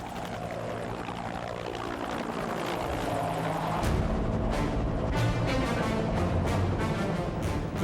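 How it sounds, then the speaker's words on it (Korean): Cobra attack helicopter flying tactical training over mountains and valleys, a steady loud rotor roar with a low drone that builds and then a rapid rhythmic blade chop as it passes close. "공격 헬기의 전술 비행 중에 산과 계곡, 지형을 따라 움직이는 침투 비행은 코브라 훈련에서 빼놓을 수 없는 중요 전술 훈련 중 하나다."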